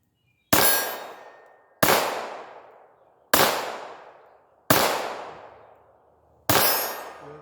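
Five loud, sharp pistol shots from a revolver and semi-auto handgun, spaced evenly about a second and a half apart, each crack ringing out and decaying into echo.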